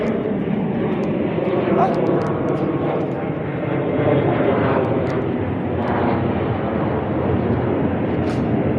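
A fixed-wing airplane drones overhead above the city of Kosice in Slovakia, a loud, steady engine roar that swells and fades gently throughout, with voices chatting faintly beneath it.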